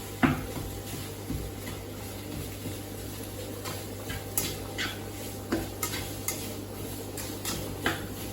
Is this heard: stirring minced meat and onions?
yes